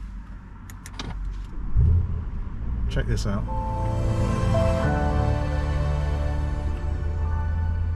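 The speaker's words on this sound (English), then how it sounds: "So it plays that sound and it reveals the vents and presents them." Audi S8 start-up, pressing the start button on a high-gloss carbon-fibre dash: a few sharp clicks, then the engine catches with a steady rumble, while a rising electronic chime and the whir of dashboard vents opening play under a man's speech.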